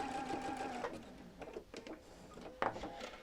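A domestic sewing machine stitches quilt pieces for a double wedding ring quilt in short, fast runs, its motor whirring and needle ticking, with brief pauses and small clicks of handling between bursts.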